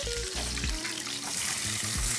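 Onion and chili fry in lard while being stirred, giving a dense, close sizzle with scraping and clinking of the utensil in the pan.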